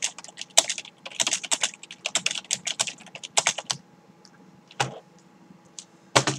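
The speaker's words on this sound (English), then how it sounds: "this is a definite difference from the sound compared to my regular keyboard, the Comfort Curve 2000. Here's a sample of that," Typing on a Microsoft Comfort Curve 2000 keyboard, soft membrane keystrokes in quick irregular bursts with short pauses, close-up and dry, with no voices.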